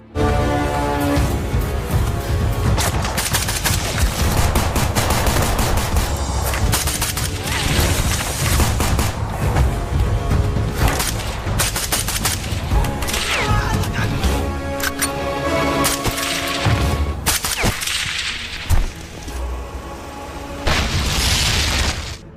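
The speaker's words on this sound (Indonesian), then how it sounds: "baku tembak pun terjadi" Rapid gunfire and booming blasts fill an action movie shootout, a dense, loud, continuous barrage of shots and explosions with a few sharper bangs near the end.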